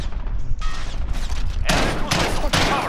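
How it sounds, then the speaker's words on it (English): Bursts of AR rifle fire in Call of Duty: Modern Warfare, loud close volleys in quick succession, with a short lull of softer battle noise between the heavier rattling strings of shots. "One sniping at me, another is fucking just shooting at me with their AR."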